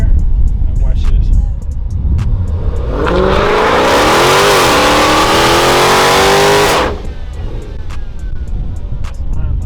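A car with line lock engaged does a burnout, the engine revving hard for several seconds under a rising roar and hiss of spinning tyres, close and loud, then dropping away, with talk in the background.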